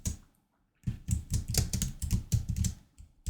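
Typing on a computer keyboard, a quick run of close, crisp key clicks in an uneven patter after a brief silence, with no talk.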